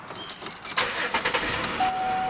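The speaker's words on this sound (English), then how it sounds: "Car started" A Pontiac G6 engine cranks and catches, with a short burst of starter and engine noise and some key jingling nearby, then settling into a steady idle with a faint tone.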